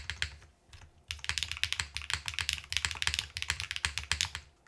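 Crisp, rapid typing on an Athena 65 mechanical keyboard, close and clear, with dense clacky keystrokes after a short pause near the start and no talking.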